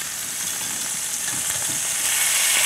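Pot roast meat sears and browns in a hot pot with a loud, steady sizzle and a few faint clicks underneath.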